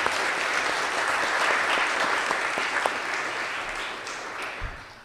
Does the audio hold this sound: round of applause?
yes